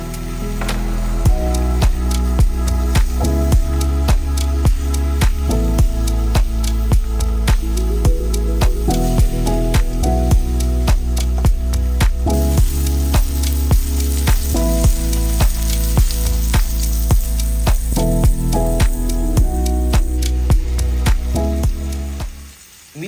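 Steak frying in a hot pan at a cave campsite, a loud, dense, steady sizzle held close up for over twenty seconds with sharp crackles and pops throughout, then a sudden cutoff.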